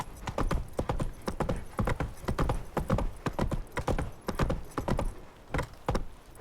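Hooves clip-clop in a fast, steady gallop as a horse named Roach runs in The Witcher 3: Wild Hunt, loud and close, with a faint whinny and no talk over it.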